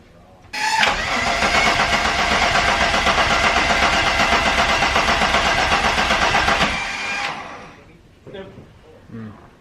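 Turbocharged VR6 in an MK3 Volkswagen on its first start attempt: a loud, dense cranking-and-running roar that holds steady for about six seconds, then cuts off abruptly, leaving scattered faint clanks afterward.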